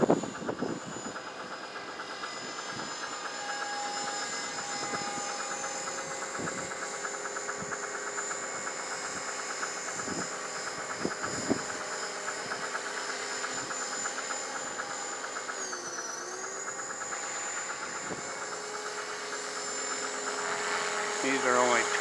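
A Trex 500ESP radio-controlled helicopter flies in windy conditions on low-punch 20C batteries, its steady high-pitched rotor and motor whine holding for the whole stretch and shifting pitch briefly midway, with speech heard over it.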